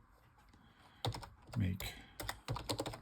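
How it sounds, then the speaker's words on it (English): Typing on an Apple Newton keyboard: clusters of close, crisp key clacks in quick irregular bursts, with a voice talking briefly between them. "The keyboard is quite comfortable to type on"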